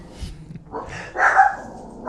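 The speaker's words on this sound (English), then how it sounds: "And there's the dog." A dog barks in a few sharp, fairly close bursts with whimpering yips between them, with faint room noise underneath.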